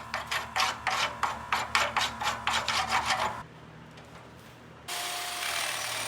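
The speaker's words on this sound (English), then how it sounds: "I'm using a 40 grit drum on the Beaver burnishing and polishing tool" Coarse 40 grit drum on a Beaver burnishing and polishing tool sanding a very rusty Toyota frame, about a dozen loud rhythmic rasping strokes, then a quieter pause before a steady whining drone starts.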